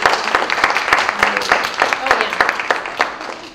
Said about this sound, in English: So one more round of applause for her.